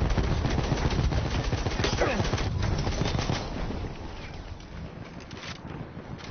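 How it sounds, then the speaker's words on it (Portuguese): Gunfire in the Battlefield 1 video game, with dense rapid shots and automatic bursts crackling continuously at moderate loudness over wind-like background noise, easing slightly in the second half. "O problema é que eu tô levando um tiro lá do outro lado."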